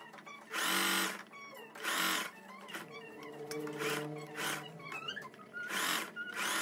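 A sewing machine runs in several loud bursts of rapid stitching, separated by short pauses, while stitching the seams of a tailored vest, close up with no talk.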